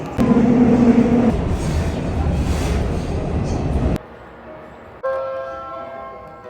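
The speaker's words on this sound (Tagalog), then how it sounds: "At andito na yung train." A train pulls into a station in South Korea with a loud, steady rumble and hiss of the carriages arriving. The noise cuts off sharply and is followed by a quieter chime or announcement tone.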